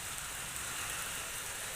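Steady rain falls outdoors as a dense, even hiss, constant and fairly loud for the whole short stretch, with no voices.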